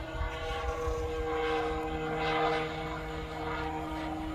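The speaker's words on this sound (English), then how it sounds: "you hear the prop on that Cub?" An E-Flite Carbon-Z Cub model airplane's propeller buzzes overhead, a thin steady whine that swells and fades slightly as it passes, fairly faint and distant.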